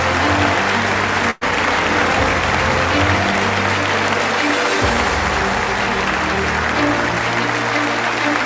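Sustained applause from an audience at a live awards ceremony as a winner comes up on stage, a steady dense wash of clapping that fills the whole stretch with only a momentary drop-out.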